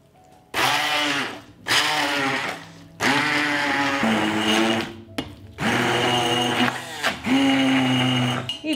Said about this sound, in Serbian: i meso ću usitniti štapnim mikserom.